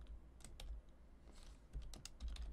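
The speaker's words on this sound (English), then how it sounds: "if I can type correctly" Close, rapid typing on a computer keyboard, a quick irregular run of light key clicks with no voices.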